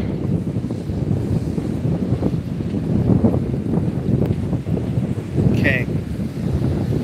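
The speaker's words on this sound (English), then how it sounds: "It's kind of windy, so I don't know if you guys can hear" Ocean wind buffets the microphone in a continuous low, rough rumble that swells and eases in gusts, with a faint voice under the blustery noise.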